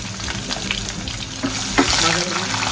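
Hot oil tempering with whole garlic, a little onion and red chili hisses and crackles as it is poured over beef kala bhuna, a steady close sizzle with a few sharper bursts.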